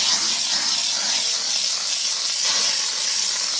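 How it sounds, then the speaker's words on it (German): A steam cleaner hisses continuously and close by as it runs over a stove top, a bright, even spray with no speech over it. "Und Dampf tut nie kratzen. Das heißt, der Dampf tut reinigen."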